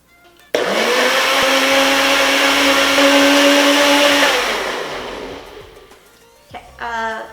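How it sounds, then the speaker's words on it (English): A small NutriBullet blender whirs loudly and steadily for several seconds while making a pumpkin spice latte, then winds down and stops; faint speech follows at the end. "I'm just gonna use a NutriBullet for this"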